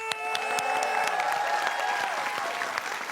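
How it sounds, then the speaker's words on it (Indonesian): A live entertainment-show audience claps loudly for Indra Bekti, a thick, sustained burst of applause with light cheering and a musical tone running underneath. "Kita kasih tepuk tangan buat Indra Bekti."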